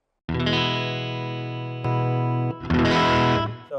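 An electric guitar played through a Caline overdrive pedal, compared with the effect switched on and off. Sustained distorted chords ring loud and alone, with a short break and a brighter, grittier passage toward the end.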